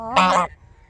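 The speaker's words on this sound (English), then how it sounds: "we got lots of honks coming out of this bird today" A domestic goose gives a single loud, close honk, brassy and nasal, lasting under half a second before a quiet tail.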